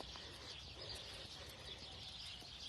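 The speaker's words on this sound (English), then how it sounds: "You hear the birds?" Birds chirp and coo along a wooded trail in autumn, where the leaves have fallen, with small scattered tweets over a quiet, airy outdoor background at fairly low level.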